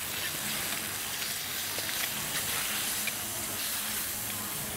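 Calamari sizzles steadily in a hot pan with garlic, a continuous bright hiss of frying with faint scattered crackles and no voices.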